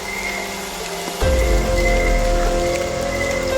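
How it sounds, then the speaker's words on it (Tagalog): Rain pours steadily at night outdoors, a continuous loud hiss that jumps to a heavier, fuller wash about a second in, with no voices heard. "Di baling mabasa kami sa ulan."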